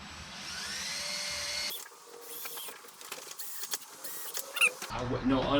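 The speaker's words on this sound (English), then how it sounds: "so we're gonna drill our holes" A power drill whirs briefly, then clicks and rattles as it bores holes in Can-Am Ryker front-end trim, with a short burst of drilling again at the end.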